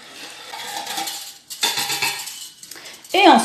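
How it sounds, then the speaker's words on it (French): Pizza dough ingredients of sugar, salt, baker's yeast and an egg being stirred together in a bowl for an Algerian coca, with clinking utensil-against-dish scraping in bursts and a sharper clatter at the end, close and fairly loud. "le sucre, le sel et la levure boulangère et un œuf. Bien mélanger le tout."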